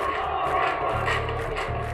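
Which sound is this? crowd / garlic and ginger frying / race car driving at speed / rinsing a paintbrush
crowd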